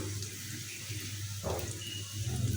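Chopped onions hit hot oil for a fish chorchori, giving a constant close hiss of frying over a low background hum, with no talking.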